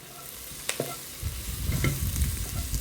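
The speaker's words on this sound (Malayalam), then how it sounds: "എല്ലാം കൂടി നന്നായി മിക്സ് ചെയ്ത് കുട്ട നന്നായി ഇളക്ക്" Chicken coated with chili paste, green chilies, curry leaves, pepper, turmeric and garam masala is stirred in a frying pan: scraping spoon strokes over a low sizzle, close and with no talking.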